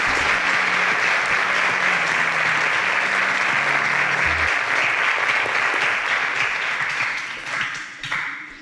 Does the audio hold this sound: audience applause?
yes